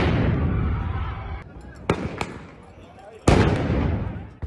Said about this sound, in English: Israeli police fire stun grenades to disperse Muslim worshippers